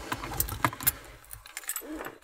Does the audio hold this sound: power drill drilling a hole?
no